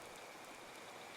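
Rain falls in Card Survival: Tropical Island, a dense, steady hiss of drops that stays even and close throughout, alone without voices.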